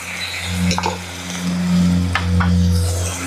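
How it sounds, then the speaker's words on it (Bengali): Onions fry in a pan for an onion and egg stuffed dish, giving a steady, close sizzle with a few soft stirring clicks over a constant low hum, with no talking. "পেঁয়াজটা ভাজা হইতে থাক"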